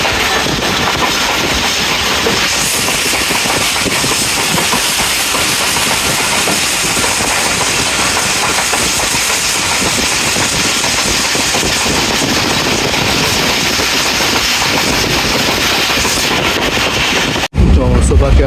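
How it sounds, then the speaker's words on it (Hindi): The Jaffar Express passes slowly through Taxila Cantt Junction, a loud continuous roar and hiss of wheels and rushing air, steady throughout and ending abruptly near the close. "टेक्सला कैंट जंक्शन से ट्रेन हमारी स्लो स्पीड में पास होगी"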